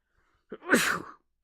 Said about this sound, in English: And I got a sneeze, apparently.